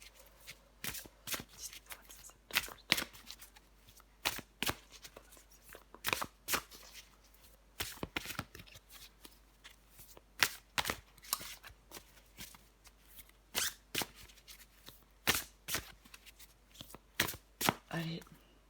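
Tarot cards being shuffled and cut, a long run of crisp irregular riffles and slaps close by, with a voice speaking in French between them.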